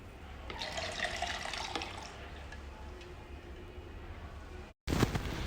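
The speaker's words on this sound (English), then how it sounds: "now we inject the water" Water pours into the tank of an LF-245D machine during filling, a steady splashing rush at moderate level that cuts off abruptly and then resumes.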